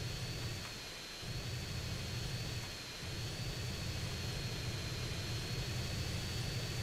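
An aircraft flies in GTA San Andreas, a continuous broad engine roar with a steady high whine on top, holding at moderate level throughout without voices.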